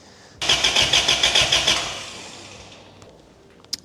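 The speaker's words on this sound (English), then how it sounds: "just make sure the engine turns over" Turbocharged Toyota Altezza engine being cranked over by the starter, about eight rhythmic chugging turns close by that die away without firing, then a soft click.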